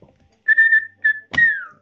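A person whistles three short tones, the first held steady, a brief second note, then a falling final note, close and clear.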